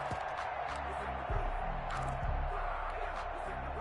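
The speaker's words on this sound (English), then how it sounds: "That just means this crowd's going to get even louder." A stadium crowd roars steadily in an American football video game, a dense, constant wash of noise with a few dull low thumps rising out of it.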